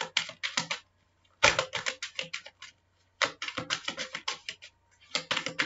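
Tarot cards are shuffled in rapid, crisp riffling bursts of papery flutters separated by brief silent pauses, close and clear with no talking.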